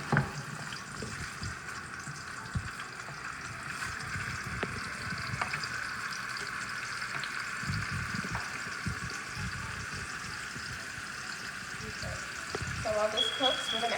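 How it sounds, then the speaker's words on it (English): Eggs and spinach frying in rendered sausage fat in a pan give a steady close sizzle with occasional utensil scrapes, and a voice talks over the cooking throughout. "we're going to also use the fat from the sausage to cook our eggs and our spinach as well"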